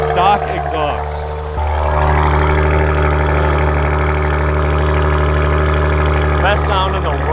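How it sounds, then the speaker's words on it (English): A twin-turbo V6 car idles through its stock exhaust, a loud, close, steady low rumble that steps up slightly in level after the first moment and then holds evenly. "That is such a good sounding stock exhaust."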